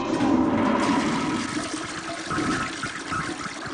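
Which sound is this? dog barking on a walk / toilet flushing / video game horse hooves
toilet flushing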